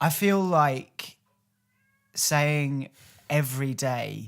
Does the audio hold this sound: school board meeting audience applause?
no